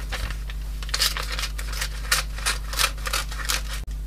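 Scissors snip by hand through a printed PCB toner transfer design on paper, a run of close, crisp cuts repeating irregularly over a steady low electrical hum.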